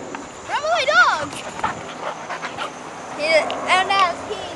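Dog whining and whimpering in short high yelping bursts, close and fairly loud, with quieter gaps between and a voice speaking at moments.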